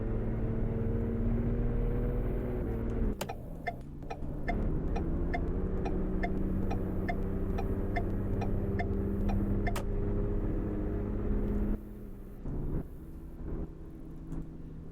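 A 2012 Ford F350 ambulance driving in a roleplay video game, with a steady engine hum that shifts pitch, a regular ticking indicator in the middle stretch and a drop in level near the end.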